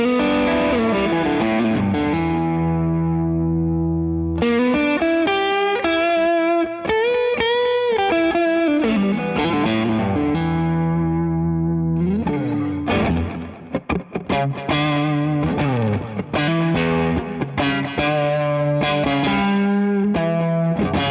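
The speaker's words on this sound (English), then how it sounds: "But it's also just a great mid-range overdrive, always works well, especially with single coils." Electric guitar through a mid-range overdrive pedal, single-coil pickups, playing mid-range chords and bluesy lead phrases, warm and gritty, continuous and loud with no talking.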